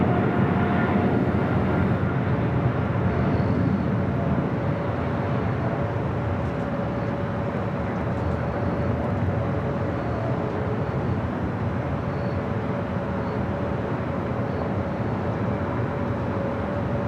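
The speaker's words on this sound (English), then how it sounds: "We do have a heavy taking off on the south side. Singapore Airlines, flight 11, heading back to Tokyo Narita" A Singapore Airlines Boeing 777-300ER takes off at LAX with a broad, steady jet roar that holds at an even loudness throughout, heard from a distance with no talk.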